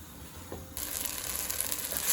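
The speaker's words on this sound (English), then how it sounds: "now you gently stir in the rice and let it fry for a couple of minutes" Rice fries in a pan for lamb do pyaza tomato rice, a soft sizzle that jumps to a brighter, steady crackling hiss partway through.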